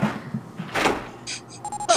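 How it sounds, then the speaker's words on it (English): Lever being pulled in the game 999, a heavy mechanical clunk and scrape at mid level followed by a few short bright chiming tones. "He pulled the lever."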